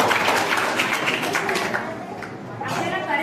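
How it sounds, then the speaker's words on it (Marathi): An audience at a Jain quiz competition claps for a correct answer, a steady, fairly loud round of applause that thins out near the end. "त्यांच्यासाठी जोरदार टाळ्या होऊन जाऊ द्या"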